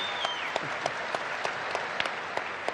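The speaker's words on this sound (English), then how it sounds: "Big round of applause for these guys." A BlizzCon 2018 audience gives a Classic WoW Q&A panel a round of applause: dense, steady clapping from a large crowd with a few sharper claps standing out, moderately loud and sustained, with no speech over it.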